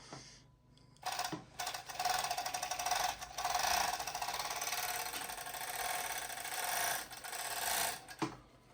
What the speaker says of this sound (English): I'll give you a slight demonstration on how the machine runs.